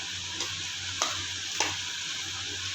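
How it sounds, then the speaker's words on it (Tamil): A spoon stirs cooked rice with oil for tamarind rice (puliyodharai) against a steady hiss, with a few soft scraping knocks spaced about half a second apart. "கொஞ்சம் எண்ணெய் விட்டு நம்ம கிளறி வச்சுக்கலாம் சாப்பாடை"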